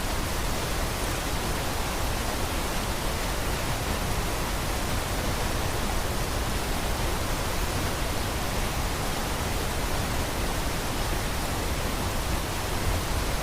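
Athirappilly waterfall roaring close by, a dense, steady rush of water that fills everything evenly without pause for the whole stretch, with no voices over it.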